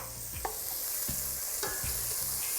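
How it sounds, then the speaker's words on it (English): Chopped onions sizzling in a hot pan for chicken curry, a steady hiss broken by several scraping stirs at a regular pace, close and fairly quiet, with no voices. "I'm just going to pop those in, and you should hear a sizzle"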